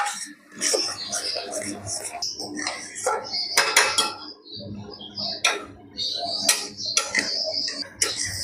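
A spoon scraping and clinking in a pan while peanut sandesh mixture is stirred dry, irregular metallic taps and scrapes near at hand under steady talking.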